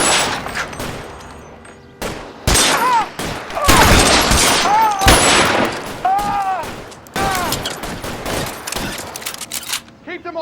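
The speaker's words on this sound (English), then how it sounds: "Shoot those sons of bitches." Gunfire during a shootout in the video game L.A. Noire, sharp repeated shots in bursts and volleys, loud and close, with shouted voices and whizzing ricochet-like sounds mixed among them.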